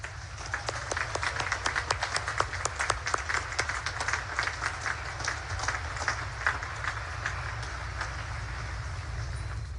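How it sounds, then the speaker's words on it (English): A large outdoor crowd at a Naval Academy commencement applauds steadily, with dense clapping that carries on for about ten seconds over a low background rumble. "please join me in giving them a heartfelt round of applause"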